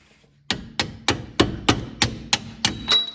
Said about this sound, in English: we can use our hammer here and peck it out